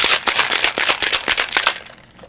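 Cocktail shaker rattling with ice as a sling with grenadine is shaken, a fast run of loud, sharp rhythmic clacks that fades toward the end.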